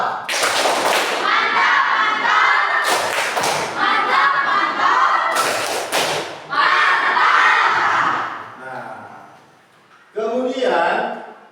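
A classroom audience claps on cue in short rhythmic patterned rounds of clapping with shouted accents, loud and close, separated by brief pauses and a voice speaking.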